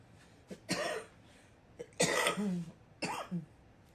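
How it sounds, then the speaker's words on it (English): Three separate harsh coughs, close to the microphone, spaced about a second apart with quiet gaps between them. "excuse me, I got a cough"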